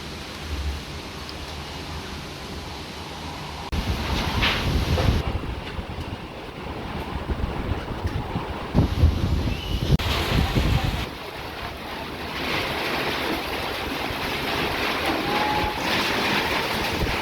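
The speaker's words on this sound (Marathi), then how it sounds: "अवकाळी पावसाने वादळी वाऱ्यासह बदलापूरला झोडपले आहे" Stormy wind lashing during unseasonal rain in Badlapur, a loud continuous roaring rush with gusts that swell and ease, buffeting the microphone throughout, with no voices.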